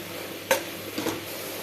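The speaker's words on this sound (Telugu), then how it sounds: "ఇప్పుడు ఒకసారి అంతా బాగా కలిపేద్దాం" Cabbage curry with coconut powder is stirred in a pan, a low frying sizzle underneath two or three sharp scrapes of a spoon against the pan, close and clear with no talking.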